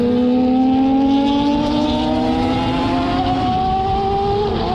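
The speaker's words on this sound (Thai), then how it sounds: "โหเสียงท่อดู" A Kawasaki motorcycle exhaust revs hard, a loud rising engine whine that climbs in pitch and holds, heard up close with steady road noise underneath.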